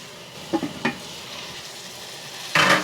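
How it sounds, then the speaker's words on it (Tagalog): Chopsuey vegetables being stirred in a hot pan, a low steady sizzle broken by a few short scraping strokes early on and a louder burst of rustling sizzle at the end. "haluin ulit natin"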